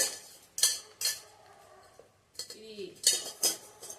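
Several sharp metallic clanks and clinks, close by, as a metal stand is set down inside an Instant Pot's inner pot, with quieter rattles between.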